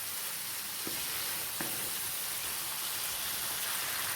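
Chicken roast masala being stirred in a hot pan, a continuous sizzle and crackle of frying with a couple of soft spoon scrapes against the pan.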